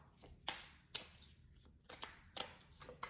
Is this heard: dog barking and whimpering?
no